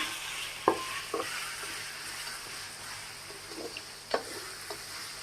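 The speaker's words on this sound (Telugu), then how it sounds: "ఈ ఆయిల్లో బాగా వేగిపోవాలి మ్యాంగో అనేది" Raw mango pieces frying in oil in a pan for mango rice, a low steady sizzle broken by a few sharp spoon clinks.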